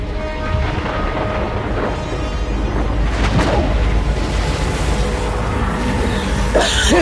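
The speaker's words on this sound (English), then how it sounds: "Ah, the explosion. The explosion." Explosion during a live event in a Roblox game recreating Fortnite live events, a deep rumbling blast with boomy low end and crackling bursts that stays loud and sustained throughout, with no talk over it.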